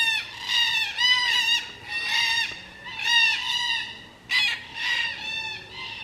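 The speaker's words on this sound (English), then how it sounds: "Listen to the racket. There's the red-tailed cockatoos." Red-tailed cockatoos call noisily from trees along a bush walking track, a series of loud, harsh, repeated squawks in overlapping bursts, close and carrying, with no talk.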